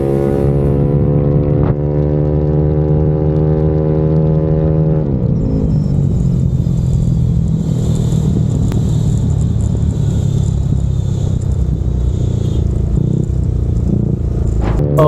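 A Yamaha Aerox 200cc scooter engine runs close by, first a steady idle hum, then light throttle blips that raise a rougher, louder rumble held under continuous mechanical noise.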